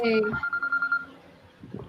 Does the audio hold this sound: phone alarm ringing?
yes